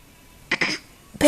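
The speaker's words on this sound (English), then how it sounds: "Show me a bad cough." A child gives a couple of short, raspy coughs on request, the last one loudest, close to the microphone with no talk over them.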